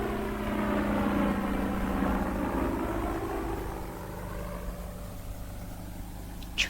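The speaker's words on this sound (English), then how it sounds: "it's a helicopter" Helicopter passing over woodland, a steady low droning rotor and engine rumble that stays fairly constant and gradually eases off, heard alone without voices.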